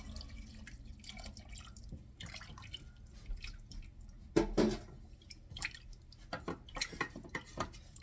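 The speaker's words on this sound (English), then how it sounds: "I still have some more broth that I'm going to add" Chicken broth is added to a pot of thickening cheese, bacon and broccoli soup, giving faint, intermittent drips and small splashes of liquid with soft kitchen clatter and no talking.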